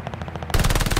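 PPSh-44 submachine gun firing in Call of Duty Vanguard, a sudden loud, rapid automatic burst that starts after a quieter half second of game ambience.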